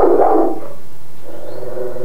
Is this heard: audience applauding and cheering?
no